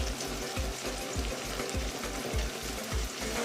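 Chopped tomato sautéing with ginger and garlic paste in a pot for chicken biryani, a continuous close sizzle with regular low scraping thumps of a spoon stirring roughly twice a second, no voices.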